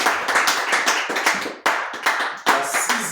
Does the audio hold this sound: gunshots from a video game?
no